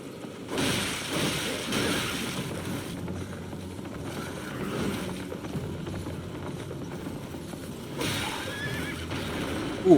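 Horse in the Elden Ring video game, ridden by a mounted soldier, whinnies and neighs over steady galloping hoof clops and game combat sounds, continuous and fairly loud throughout.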